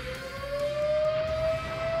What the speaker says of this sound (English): Sorry about the sirens going on in the background